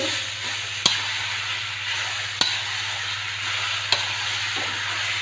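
Amla chutney masala being stirred in a pan, a steady sizzling hiss with a few sharp scraping clicks from the spoon at intervals, close and moderately loud.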